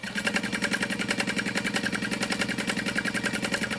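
A sewing machine stitches a pocket on a crossbody bag, its needle running in a fast, even rhythmic chatter at close range with no pauses.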